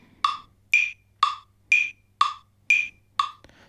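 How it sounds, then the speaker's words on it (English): Steady metronome clicks from the Tempo app ticking out eighth-note divisions, seven crisp evenly spaced beats, close and clear with a faint hum underneath. "Now some metronomes like this one, and the one I'm using is one called Tempo"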